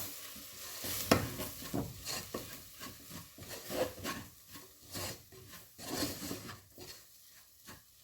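A garam masala mixture being stirred in a pan, soft rhythmic scraping and rubbing strokes repeating over a faint sizzle, quiet and close with no voices.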